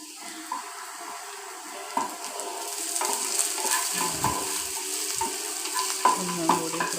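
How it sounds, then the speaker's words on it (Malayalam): Chopped elephant foot yam stalks sizzle and fry with onion, garlic and chilli in a hot pan, with a steady close sizzle and occasional stirring scrapes and taps throughout. "അത് ചേനയുടെ തണ്ടരിഞ്ഞത് ഇട്ട് വഴറ്റണം"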